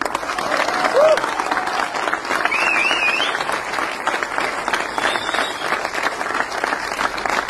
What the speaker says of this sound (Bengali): পরিচালক জয়ব্রতর জন্য একটা জোরে হাততালি।